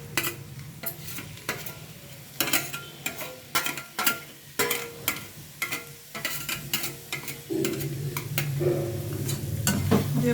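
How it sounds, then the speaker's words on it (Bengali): Fried paneer and potato pieces added to sizzling masala in a pan and stirred, with a steady frying hiss under repeated sharp scraping and clattering strokes of a spatula, close and fairly loud. "গ্যাসের ফ্লেমটা কমিয়ে আমি এখন ভেজে রাখা আলু আর পনিরটা দিয়ে দিলাম।"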